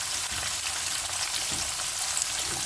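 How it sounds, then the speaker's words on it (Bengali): Pumpkin, banana and mixed vegetables sizzle steadily in a pan as they slowly fry together in salt and turmeric, a continuous close crackle with no talk. "এগুলো আমি একসাথে আস্তে আস্তে ভেজে নিচ্ছি"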